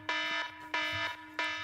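A harsh electronic buzzer sounds three times in a regular rhythm, each blast lasting about a third of a second, loud and close with no voices.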